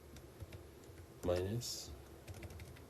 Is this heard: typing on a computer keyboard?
yes